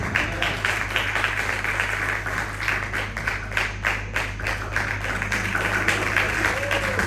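A church congregation applauds for pastor Denise, a steady, dense wash of clapping hands that continues throughout at a fairly even level, with a low hum underneath and some voices mixed in.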